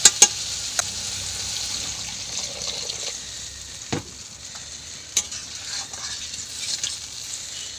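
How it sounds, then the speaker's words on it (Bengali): Water is poured into a frying tomato and spice masala for a snakehead fish curry, bringing a bright sizzle and bubbling with a few sharp clinks, moderately close and with no talking. "এবারে দিয়ে দিব আমি জল"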